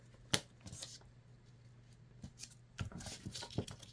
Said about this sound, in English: So what she does is the first thing is to fold the paper in half